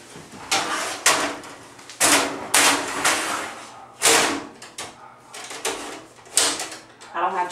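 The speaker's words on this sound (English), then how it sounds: "we would take our cassette out." Rapid series of sharp clattering knocks and sliding scrapes as an X-ray cassette is pulled from under the grid tray of a veterinary X-ray table, close and fairly loud, with gaps between bursts.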